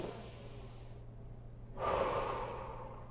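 Slow breaths while holding an upper-back stretch, one soft airy exhale followed by a brief pause and a stronger, fuller breath, close and quiet against a low steady hum.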